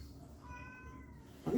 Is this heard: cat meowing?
yes